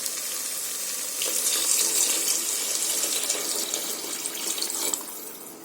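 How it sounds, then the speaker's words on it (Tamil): Water is poured steadily into a cooking pot of vegetable biryani rice, a continuous close splashing gush that swells slightly and tapers off at the end. "அப்போ 3 கிளாஸ் தண்ணி சேர்த்துக்கலாம்"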